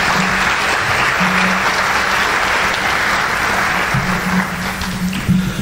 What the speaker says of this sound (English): if you want to give him a brief applause